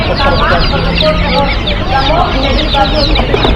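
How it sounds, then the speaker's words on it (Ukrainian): A dense chorus of chicks and ducklings chirps and peeps continuously, close by, with people talking in the background of a busy market. "Курчата, качата, вибирайте курчатка, курчатка."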